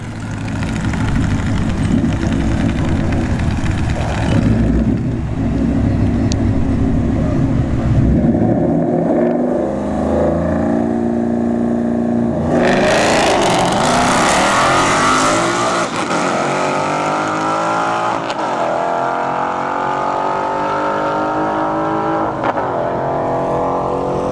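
Two Ford Mustang S550s launch side by side down a drag strip, engines roaring loud and close with a brief tire chirp, then the revs climb through gear changes as the cars pull away and fade.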